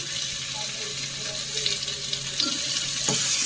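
Chopped tomatoes dropped into a pan of frying onions with ginger and garlic paste, giving a steady close sizzle and hiss with a few soft stirring knocks.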